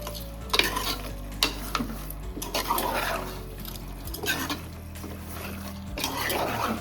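Chicken curry with ginger and garlic cooking in a pot on a village stove, with steady stirring scrapes and a soft sizzle close by, plus occasional clinks of a spoon against the metal pot, no talking.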